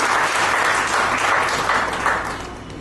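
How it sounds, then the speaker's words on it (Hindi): An audience at an insurance agents' educational seminar breaks into loud, sustained applause for an MDRT achiever, a thick wash of many clapping hands that holds steady and eases slightly toward the end. "एक बार जोरदार ताली उनके लिए बजा दें"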